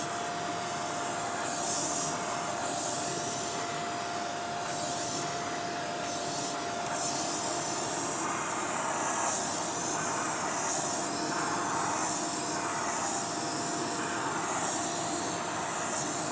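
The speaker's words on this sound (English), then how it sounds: "I'm going to go and hoover that because it's stressing me out now." A vacuum cleaner hoovering a stained carpet at home runs as a steady, loud, continuous whine and roar with slight fluctuations as it moves, with no talking.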